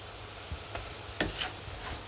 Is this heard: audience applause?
no